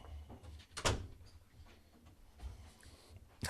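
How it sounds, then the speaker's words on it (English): A household door opens or closes with a sharp thump near the start, followed by quieter room noise and a second knock at the end, no speech over it. "Kids don't shut doors."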